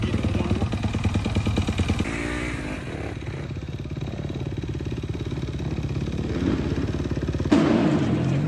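A motocross bike idles and then pulls away onto the Paris Supercross track, its engine burbling in a pulsing rhythm, revving up and down and ending in a louder, harsher surge, with crowd noise around it.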